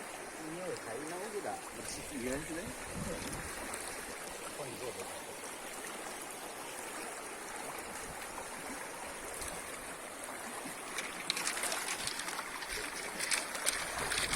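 A clear mountain river flows steadily in a continuous rushing wash while freshwater snails are cleaned in it. Voices are heard near the start over the water noise.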